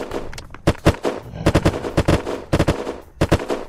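Rapid bursts of automatic gunfire in the survival video game Unturned, loud and close, coming in clustered volleys with short gaps and no talk over them.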